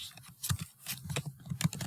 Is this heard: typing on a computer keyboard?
yes